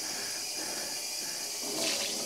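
Dyed yarn gets rinsed under running water, a continuous loud hiss and splash of flowing water with a brief surge near the end.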